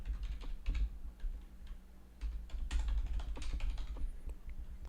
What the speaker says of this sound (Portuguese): basta abrir o terminal e digitar esse comandinho